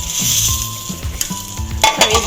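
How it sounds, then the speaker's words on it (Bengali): Slices of pointed gourd (potol) fry in hot oil in a home kitchen pan, giving a loud, continuous sizzle broken by repeated clinks and scrapes of a utensil stirring. "আর এদিকে হচ্ছে পটল ভাজা, আর হবে বেগুন ভাজা"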